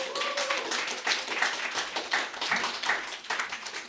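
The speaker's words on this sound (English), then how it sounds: "Everybody clap for Jill Christman." Audience members clap for an author at a literary reading, a moderate, even spatter of hands with occasional sharper claps standing out over a few seconds.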